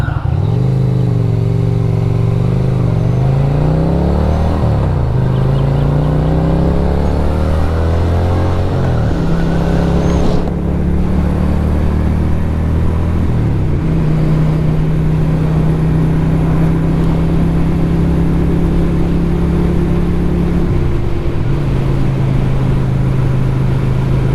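A Lifan Lycan 250 motorcycle engine drones steadily while riding, rising in pitch as it accelerates, dropping at each gear change, then climbing again, loud and close throughout with no talk.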